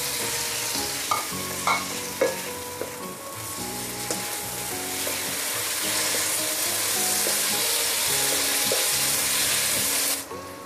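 Three tomatoes sauté with garlic and onions in a pan, with rhythmic spatula scrapes and clinks over a steady sizzle that swells louder partway through, then cuts off near the end.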